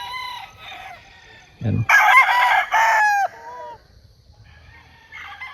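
Chickens cluck and roosters crow among a flock of fowl, several loud crows close by with shorter clucks between, and someone briefly speaks.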